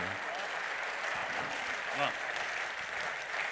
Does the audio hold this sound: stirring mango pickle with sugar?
no